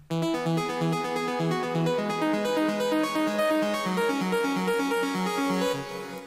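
An electronic dance track plays sustained synth chords at an even, unpumped level over a stepping melodic line. Nobody speaks.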